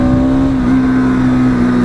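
A motor vehicle passing on a road, heard as a steady engine drone with a sustained tonal hum, loud and close throughout, with no talking.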